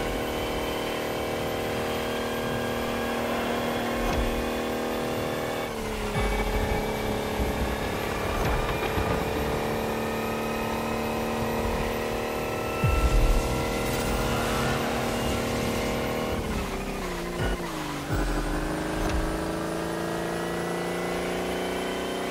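An electric car accelerates in The Crew Motor Fest, its motor whine climbing steadily in pitch, dropping back at each shift or reset, then rising again. The sound runs loud and continuous for over twenty seconds, with no talking heard.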